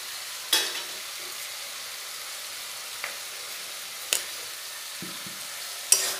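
Spinach is stirred with a little sugar in a frying pan, giving a soft, faint sizzle broken by a few sharp clinks and scrapes of the spoon against the pan. No one speaks.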